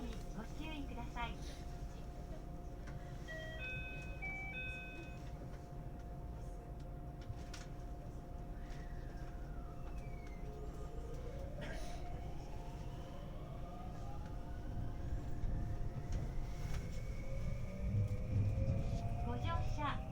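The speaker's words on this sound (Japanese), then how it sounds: "まもなく発車します。" A Hapi-line Fukui 521 series electric train departing a station, with a steady low rumble, rising motor whine and a chime, while an announcement voice talks over it.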